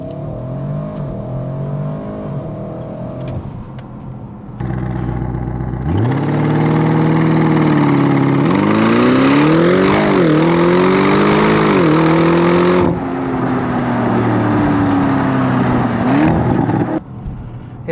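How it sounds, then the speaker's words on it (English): A 2021 Audi RS 6 Avant launches hard to 60, its engine roaring loud and close as the revs climb through several gear changes, each shift dipping the pitch before it rises again. "So this thing just rockets to 60"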